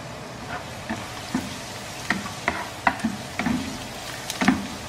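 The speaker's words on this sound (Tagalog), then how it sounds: "Ito, magigisa na po tayo. Ito na po yung bawang." Garlic sautéing in a pan for igado, a steady sizzle of frying with intermittent scraping and stirring knocks from a utensil, close and continuous.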